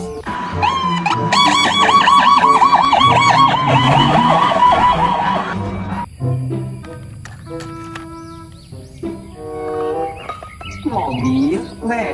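A toy ambulance plays a loud, warbling electronic siren for roughly six seconds, followed by assorted shorter electronic beeps and tones.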